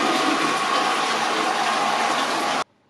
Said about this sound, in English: flushing the loo